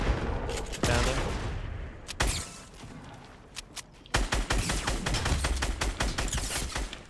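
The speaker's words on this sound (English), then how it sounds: "There's definitely some shots north too." Gunfire in a video game: bursts of rapid shots and single cracks, some close and loud, others more distant, continuing in clusters throughout with quiet gaps between.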